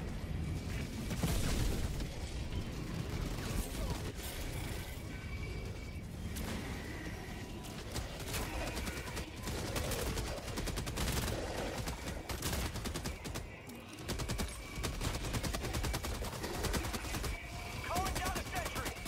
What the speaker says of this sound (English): Firing gas strike.